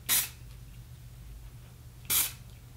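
Two short bursts of hairspray hissing close by onto short curled hair, about two seconds apart, with quiet in between.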